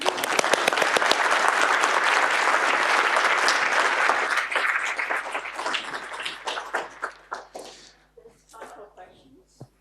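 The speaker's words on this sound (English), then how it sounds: "Applaud now." Audience applause breaks out after a technical conference talk, a loud dense wash of clapping that holds steady for several seconds, then thins into scattered claps and fades out.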